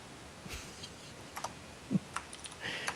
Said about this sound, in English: apologize if my keyboard comes across on Skype